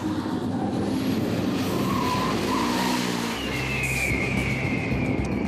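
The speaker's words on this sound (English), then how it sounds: "This is BUGGYRA, the super race truck conceived and created by Martin Kolok." BUGGYRA super race truck, created by Martin Kolok, tearing along at speed in Dubai, a continuous loud engine roar with tire noise and a rising whine, no voices.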